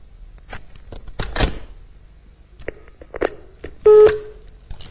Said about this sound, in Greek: Γιάννη, αυτή τη στιγμή παίρνω την αστυνομία τηλέφωνο